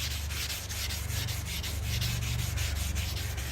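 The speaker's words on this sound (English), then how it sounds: "We're just gonna sand it down." Steady rhythmic rubbing of sandpaper scrubbing rust off a steel lathe tool rest, close and continuous with regular back-and-forth strokes and no talking.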